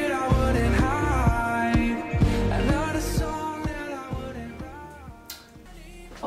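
A pop song plays with a melodic sung vocal line over steady rhythmic beats, moderately loud and fading slightly toward the end.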